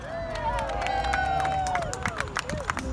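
A crowd gathers outdoors along a Valley Center highway for a sign unveiling, with a close, busy murmur of voices, scattered claps and brief cheering.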